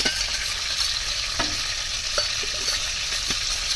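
Ground spice paste for a spicy village-style chicken curry sizzling and frying steadily in hot oil over a wood-fired stove, close and continuous with faint stirring clicks and no talking.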